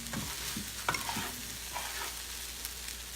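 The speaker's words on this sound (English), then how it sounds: "now I'm gonna add in my rice. Just mix everything." Rice being stirred in a pan for egg fried rice, soft scraping and tossing strokes over a faint sizzle, a few sharper clacks early on, fairly quiet and without talk.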